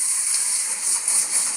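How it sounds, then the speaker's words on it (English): Steady, bright sizzling hiss from onions and peppers in a pan over high heat, continuous and fairly loud with no talking. "I'm just going to carry on sizzling that for a good 3 minutes."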